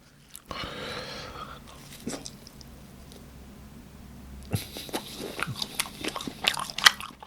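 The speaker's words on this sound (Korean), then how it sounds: "치즈틱 와 맛있네 이거 처음 먹어보는데" Fried cheese sticks are bitten and chewed close to the mic, with a quiet chewy stretch early, then a run of crisp crunches and sticky mouth sounds toward the end; no talking.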